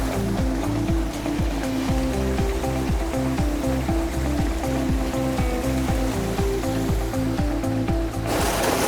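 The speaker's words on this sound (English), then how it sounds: "even with debris added into the water flow, it's not going to cause any splashing" Steady rushing water carrying debris pours continuously through a hooded gutter, with a churning, splashy texture and low rumble, loud and close throughout, with no voices.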